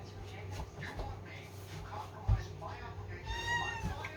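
A cat meows near the end, short high-pitched calls rising over a kitchen where someone talks while cutting chicken.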